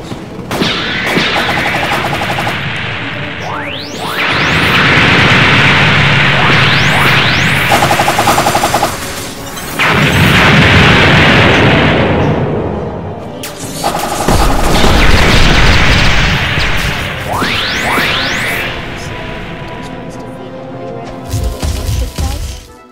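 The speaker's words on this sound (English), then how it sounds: "this is one ship, and I'm about to fire a cannon, so it's pretty long range" Ship cannon fire in the Roblox game Blox Fruits, loud booming gunfire bursts arriving in several long volleys over about twenty seconds with short gaps between, game audio with no talk.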